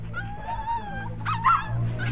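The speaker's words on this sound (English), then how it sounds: "Oh, and there's more dogs here." Several dogs at an adoption caravan give soft whimpers and small yips, fairly near, over a steady low background hum.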